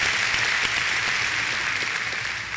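A church congregation applauding during a worship service, a dense, even wash of many hands clapping at once, sustained for a couple of seconds before tapering slightly.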